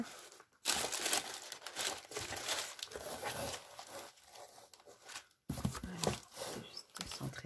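Continuous rustling and crinkling of paper and packaging, with a few short pauses and tearing-like scrapes, close up.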